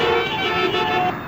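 Road traffic rumbles steadily with car horns sounding as sustained tones over the engine noise, close and loud throughout.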